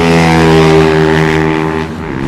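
TVS one-make racing motorcycles launch from the grid at Madras Motor Racetrack, a loud, sustained, layered engine drone with steady harmonic pitch that holds for the whole moment and eases slightly near the end.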